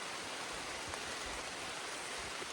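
Rain falling outdoors on an Appalachian farmstead, a steady soft hiss of drops covering the whole clip, fairly faint and even with no voices.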